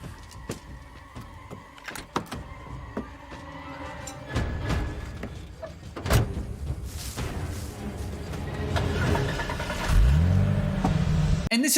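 A car engine from a scene in the 2003 film Wrong Turn rumbles and revs amid thuds and rattles, rising to a loud, tense roar toward the end with a swelling mechanical drone.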